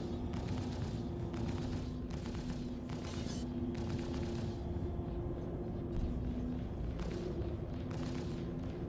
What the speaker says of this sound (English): This guy's shooting at us.